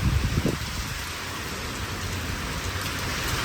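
Heavy rain pouring steadily, a dense, even hiss of water hitting surfaces close by, loud and continuous with a few sharper splashes at the start and no speech.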